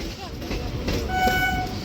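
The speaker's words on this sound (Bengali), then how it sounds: "ট্রেন এসে গেছে" A train pulls into a station and sounds a sustained, tonal horn in the second half, over a steady rumble and background crowd voices.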